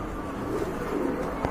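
A pair of pure white Holy Cooper pigeons coo softly and continuously, the low murmuring calls steady against a faint background hum.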